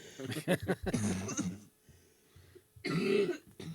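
A person coughs a few times close to the microphone, a harsh throaty burst early on and another heavy cough after a quiet pause.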